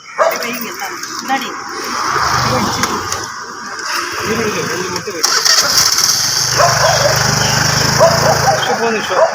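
Vehicles pass along a busy main road, their engines swelling into a low rumble twice as traffic goes by, with people talking over the steady outdoor noise.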